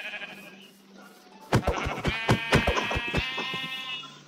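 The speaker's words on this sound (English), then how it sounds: "I'm gonna kill a sheep." Sheep in the Minecraft video game bleat several times in a quick cluster, sharp and close after a quiet start.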